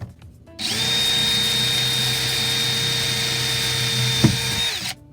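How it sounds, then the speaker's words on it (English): A power drill whines steadily for several seconds at close range, drilling a steel bracket, a high motor tone holding level before winding down, with a brief knock near the end. "Next up, we are gonna run that drill."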